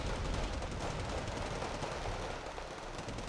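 Long-range gunfire in a Wargame: Red Dragon battle on the Wonsan map: a loud, continuous rattle of rapid shots and rumbling fire blended into a dense barrage for about three seconds, with no voices.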